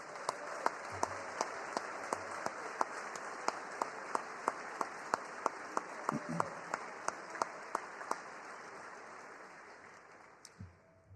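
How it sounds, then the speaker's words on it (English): An audience applauds at the Sandhurst Military Skills Competition awards ceremony: scattered, fairly sparse claps ring out steadily over a hushed room, then thin out and fade near the end. "Can we all please give them a huge cheer and a round of applause?"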